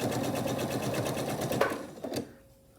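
A sewing machine runs steadily, stitching a regular quarter-inch seam on a 12.5-inch album quilt block, with close, rapid, even needle strokes that stop abruptly near the end.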